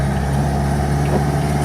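An S10 with a 2.2 l turbo diesel drones steadily under throttle, heard from inside the cab as a loud, constant low engine hum with no talk.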